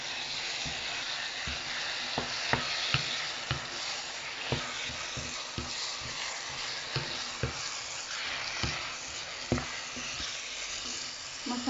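Dough sizzling in a frying pan, a soft constant hiss with scattered sharp pops, crackles and occasional utensil clicks, close and fairly quiet, with no talking.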